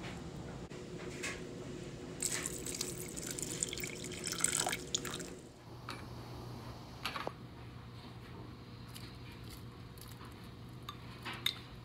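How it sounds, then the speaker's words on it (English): Water pours steadily into a pot of pinto beans in a home kitchen, trickling and splashing close by, with a few clinks of metal and dishes before the flow eases and fades out. "pour enough water over top of them to cover your beans"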